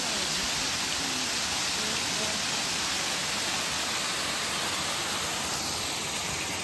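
A waterfall on a trail near Fukuoka, Japan, gives off a steady, dense rush of falling water. The roar is loud and unbroken, with no voices heard.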